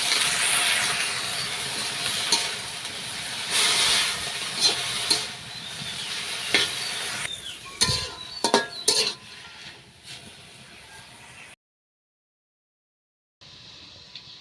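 Green chilies dropped into hot oil in a pan on a village stove, giving a bright hissing sizzle with clinks and scrapes of a utensil against the pan, ending abruptly in silence before a faint hiss returns.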